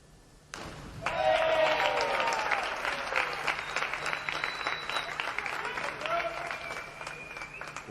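A crowd at a women's platform diving final breaks into a warm round of applause that swells quickly and then holds steady, with a commentator's voice running over it.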